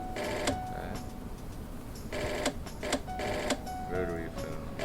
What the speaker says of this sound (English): Rotary phone.